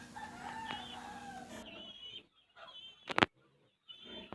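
Rhode Island Red chickens on a free-range farm, with a rooster crowing in a drawn-out call at the start, followed by scattered clucks and a brief sharp squawk, moderately close and otherwise quiet.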